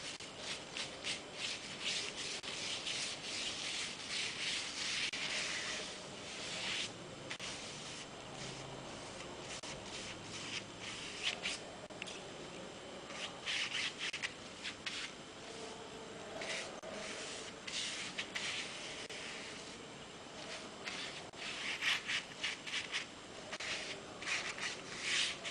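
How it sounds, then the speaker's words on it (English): A paper towel rubs excess paint off wax-resisted areas of silk in a painting session, giving soft, continuous scratchy rubbing strokes in quick irregular bursts, close and alone. "make sure to remove the excess paint of the waxed areas with a"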